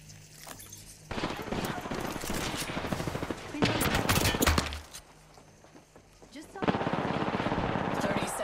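Rapid automatic gunfire from Apex Legends: loud, dense bursts of shots, a steady stream for a few seconds, a brief lull, another intense burst, then a quieter gap before sustained firing resumes near the end.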